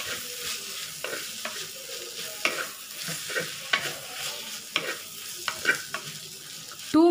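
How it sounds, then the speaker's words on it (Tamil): Grated raw mango and masala sautéing in a pan, with a soft sizzle broken by repeated scraping strokes of a spoon stirring at a steady pace. "நம்ம வதக்கிட்டே இருக்கணும்"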